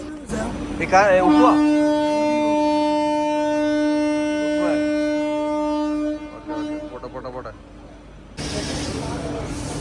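A Gandhidham–Nagercoil train gives a long, loud, steady horn blast close by, then the horn cuts off and a rushing rumble of the passing train takes over.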